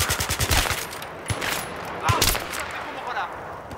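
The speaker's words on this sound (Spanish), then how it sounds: "Alguien me está disparando, no sé quién." Automatic gunfire in Battlefield 3 on PC during a campaign firefight, rapid bursts opening the clip, then scattered single shots and a heavier blast around the middle.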